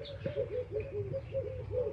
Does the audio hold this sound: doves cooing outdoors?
yes